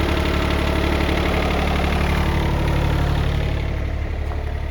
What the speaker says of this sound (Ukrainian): Чуєте, яка м'яка робота японського двигуна.